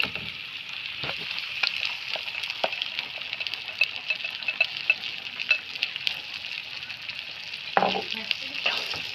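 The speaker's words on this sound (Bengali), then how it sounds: "এবার আমরা ডালটা এতে দিয়ে দেব।" Steady, close sizzling of onions and green chilies frying in hot oil, with light scrapes of stirring and a brief louder hiss near the end as dal is added.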